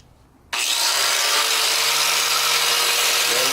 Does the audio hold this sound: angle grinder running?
yes